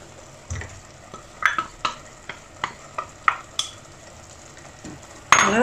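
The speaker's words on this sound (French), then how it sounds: "je mélange afin de bien imprégner donc le boulgour à la préparation" Rinsed bulgur being stirred into a simmering mixture in a pan, a series of distinct scraping and clinking strokes at a steady pace over a soft sizzle, with a louder clatter near the end.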